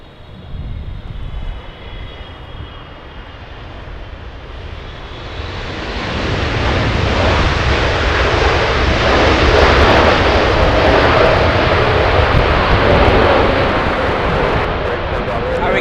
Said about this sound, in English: we have Speedbird, a 777 arriving in the next 5 minutes